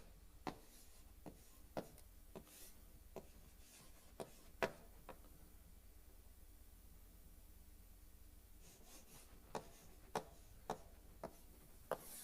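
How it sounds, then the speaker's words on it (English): Chalk or marker tapping and scratching on a board during a lecture, a series of sharp, quiet strokes in irregular bursts separated by a pause, in a quiet room with faint background hiss. "It is so important that I write it once again here."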